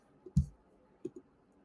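Computer mouse clicks, close and crisp: one sharp click followed by a quieter double click a moment later, in an otherwise quiet room.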